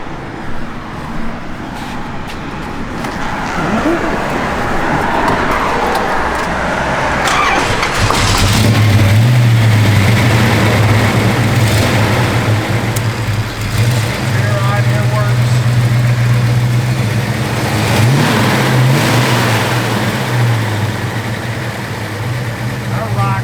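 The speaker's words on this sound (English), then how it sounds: "These Buick engines produce a ton of torque." A 1971 Buick Gran Sport V8 starts quiet, then from about eight seconds a loud, steady low idle rumble fills the recording, with a few throttle blips and voices talking over it.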